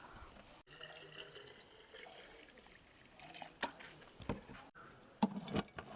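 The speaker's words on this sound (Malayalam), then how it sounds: "ഒരു തുള്ളി പോലും പോവാതെ വേണം നമുക്ക് ഒഴിക്കാം" Homemade Christmas wine pours steadily with a soft trickling sound, close by, with a few clinks and taps near the end.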